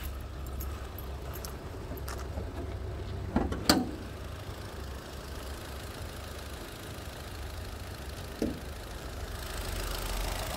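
A Kia with a 1.6-litre engine and automatic gearbox idling, heard from the open engine bay: a steady low, even hum with faint ticking, and a couple of brief clicks and rattles nearby.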